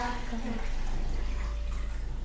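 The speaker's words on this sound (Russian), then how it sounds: "Я, наверное, перелью воду" Water is poured from one container into an ordinary small cup, a soft steady trickle running throughout with a voice briefly over it.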